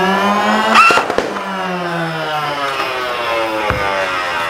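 A Nerf Hyper Mach 100 full-auto blaster whirs as its internal flywheels spin, a motor-like tone winding down after a couple of sharp clicks, with another click near the end.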